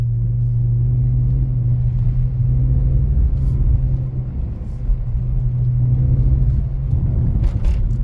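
A BMW drifting on snow gives off a steady, close engine rumble with a deep, continuous drone that dips briefly midway before surging back up.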